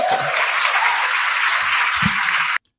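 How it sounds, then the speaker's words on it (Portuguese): Audience applause at a Brazilian court session by Ministério Público members, a dense steady clapping that runs unbroken for about two and a half seconds, then cuts off abruptly. "O pessoal gostou, o pessoal aplaudiu"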